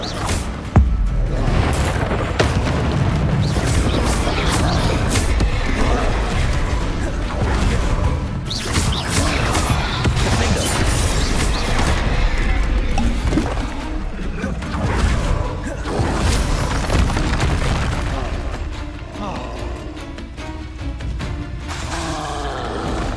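Confringo fire spells burst in the Hogwarts Legacy video game, a dense run of loud crashing explosions and whooshes that continues almost without pause, with a voice calling out spells amid the battle.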